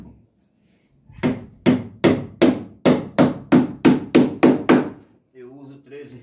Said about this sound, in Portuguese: eu preciso de prego mais grosso, prego mais fino, aí eu vou regulando aqui na pregagem